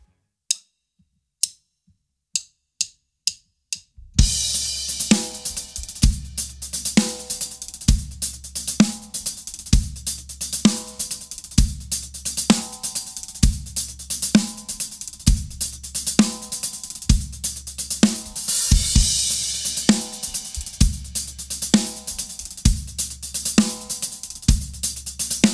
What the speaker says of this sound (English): with a bass drum on beat 1 and up to speed at the original tempo, the groove sounds like this.